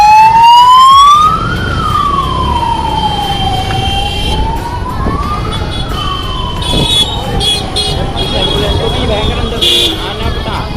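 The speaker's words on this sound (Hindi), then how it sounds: "एम्बुलेंस।" A loud ambulance siren wails close by, rising and falling in slow sweeps over traffic noise, with people talking beneath it.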